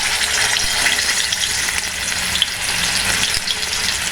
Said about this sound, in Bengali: এই রান্নাটায় চিকেনটা যদি একটু হালকা করে এপিট ওপিট করে ভেজে নেওয়া যায় তাহলে স্বাদ বেশি